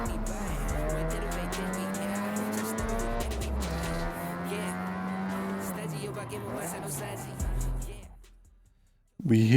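In the Forza Horizon 6 racing game, a car drifts with a loud, droning engine note and a sustained tire squeal. The engine fades almost to silence near the end, then revs back up sharply.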